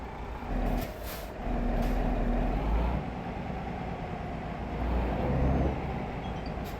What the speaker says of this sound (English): Put my handbrake on.